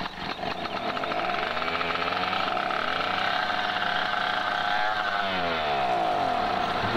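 DT-75 crawler tractor engine in Farming Simulator 2017 cranks and settles into a steady, loud mechanical drone with a rising then falling pitch sweep near the end, running alone with no talk.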